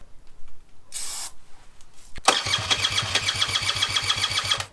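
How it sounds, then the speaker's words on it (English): After a brief hiss and a click, a motorcycle engine that has not run in years cranks and catches, settling into a loud, steady rhythmic chug up close. "ready to hit the start button and see if it fires."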